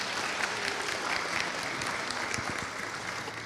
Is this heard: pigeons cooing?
no